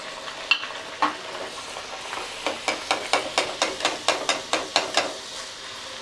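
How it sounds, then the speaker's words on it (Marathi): A masala puri deep-fries in hot oil, its steady sizzle punctuated by a quick, regular run of splashing strokes as oil is ladled over it, growing more rhythmic toward the end. "आणखीन एक पुरी मी इथे तळून दाखवते तुम्हाला."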